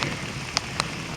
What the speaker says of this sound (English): It's raining out. It's been raining for about an hour.